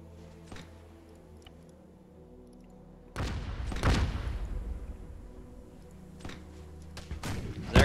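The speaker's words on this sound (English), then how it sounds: "And now you're hearing that cannon fire." Cannon fire in a Battle of Bunker Hill video game, heard as a few heavy booming thuds over a steady low battle din, with one large blast near the middle and further bangs toward the end.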